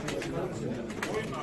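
Soft pigeon cooing sits low beneath steady nearby talking in a pigeon auction hall in Yenimahalle, Ankara, the murmuring calls blending into the chatter throughout.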